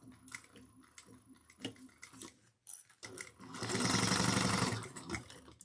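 A sewing machine stitches a seam on a handbag, starting in short bursts that stop and start, then running steadily and loudly for a few seconds. It sounds close and has no talking over it.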